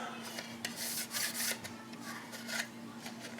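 Dirty plastic part from a Trumpeter ZBD-86B model kit being rubbed clean, giving soft, quick scratchy rubbing strokes in bursts over a faint steady hum, quiet and close.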